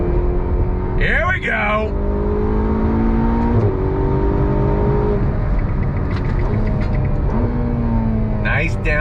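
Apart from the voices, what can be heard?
Ferrari GTC4 Lusso T accelerating on throttle, revving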